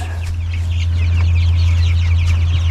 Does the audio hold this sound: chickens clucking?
yes